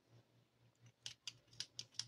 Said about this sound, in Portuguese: A minha tesoura tá péssima, mas tá bom, né?